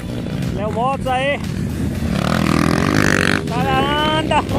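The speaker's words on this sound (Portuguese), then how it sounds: "Léo Motos passando aí em primeiro aí, ó" Motocross motorcycle in a cross-country race at São Gonçalo do Amarante, RN, its engine droning and rising loudly as it passes close, with an excited commentator talking over it throughout.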